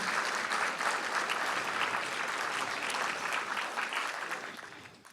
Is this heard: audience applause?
yes